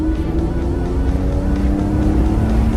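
A Nissan Skyline R33 GTS25T with an automatic transmission and its turbocharged engine breathing through the factory exhaust idles nearby with a steady, even hum and a clear low tone held throughout, loud and uninterrupted.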